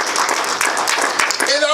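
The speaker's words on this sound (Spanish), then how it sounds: "¿Podemos darle palmas al Señor?" A church congregation claps together for the Lord, producing a dense, steady patter of hand claps that runs the whole moment, with voices mixed in and a sustained tone near the end.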